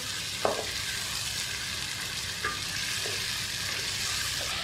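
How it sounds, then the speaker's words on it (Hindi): Masala frying in a kadai for chicken angara, a dense, even sizzle running throughout, with a few sharp scrapes and taps of a spatula. "अच्छी तरह फ्राई हो गया मसाला। इसको 1-2 मिनट और फ्राई करेंगे।"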